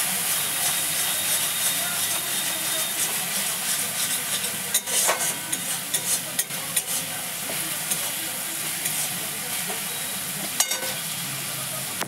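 Spices and meat masala are stirred and fried in a pan for an Indian egg curry, giving a steady close sizzle and hiss with occasional scraping stirs and sharp spatters.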